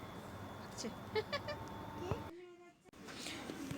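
A young goat bleating a few times at close range, short wavering cries with a voice speaking around them.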